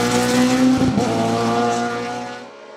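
Production-class race car on the Chamrousse hill climb, loud and close, its engine droning hard and shifting as it passes, then fading away up the road.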